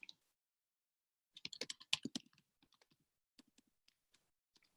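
Someone types on a computer keyboard close up in a quiet room, entering text into a chat during an online trading session. A fast burst of keystrokes is followed by slower, scattered individual taps.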